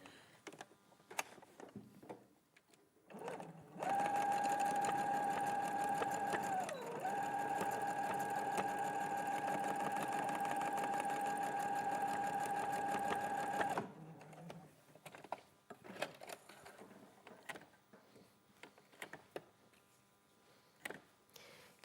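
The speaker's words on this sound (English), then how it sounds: "So I'm just going to sew over the top. You can just a straight stitch? Straight stitch, just a couple of times reversing" A sewing machine runs a straight stitch in one sustained whirring burst of about ten seconds, with a brief dip in pitch partway through. Quiet clicks and handling noises come before and after.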